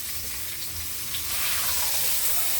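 Beef for birria sears in a hot pan with a continuous, close, bright sizzle that swells slightly midway, with no voices over it.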